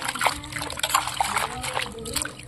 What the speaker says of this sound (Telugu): పిండుకొని కొద్దిగా ఉలుముకుంటే ఉసుక అంతా క్లీన్ అయితే పోతుంది